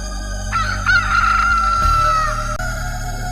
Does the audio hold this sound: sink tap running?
no